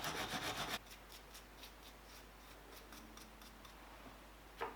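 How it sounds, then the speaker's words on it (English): Garlic is grated on a grater with a short burst of close, rhythmic rasping strokes at the start, then quiet handling noises and one soft knock at the end. "you better grate garlic."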